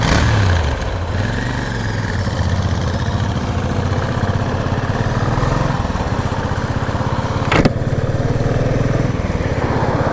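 Motorcycles, a Pulsar NS 200 and a Continental GT 650, idle at a Shell petrol pump with a loud, steady, throbbing engine chug close by and a brief sharper burst near the end.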